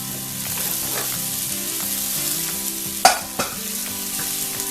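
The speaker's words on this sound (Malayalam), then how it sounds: "ഇനി നമ്മൾ വേവിച്ച് വെച്ചിരുന്ന സോയാ കൂടെ ഇതിന്റെ കൂട്ടത്തിലങ്ങ് ചേർക്കാം" Boiled soya chunks stirred into a frying masala for a Kerala-style soya ularthiyathu, a steady close sizzle with scraping spoon strokes and a couple of sharp clacks near the middle.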